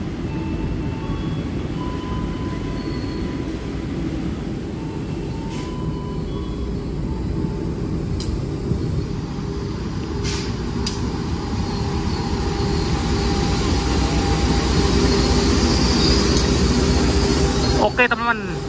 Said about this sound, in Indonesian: ini dia kereta api Tawang Alun masuk stasiun Pasuruan